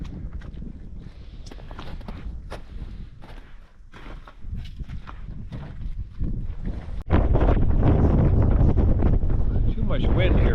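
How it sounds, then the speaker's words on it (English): Wind buffeting a microphone outdoors on a February trapping outing, a rumbling, gusty roar that builds and turns heavy and constant in the second half, with scattered footstep-like thumps before it. "too much wind here"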